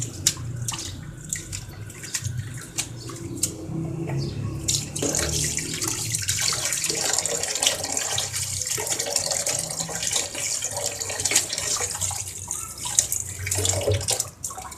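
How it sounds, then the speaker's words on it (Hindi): Mint and coriander leaves being rubbed and rinsed under a running tap while preparing tamarind chutney, a steady close stream of water splashing over the herbs for the whole stretch, with no talking. "इसको पहले अच्छी तरह मल के धो लें पुदीने और धनिए को"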